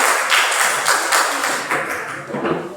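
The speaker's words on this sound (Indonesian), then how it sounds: "Silakan duduk dan tepuk tangan untuk kita semua." Classroom students clap their hands in rhythmic bursts during a teaching practice lesson, loud, close and dense, with taps and claps repeating steadily throughout.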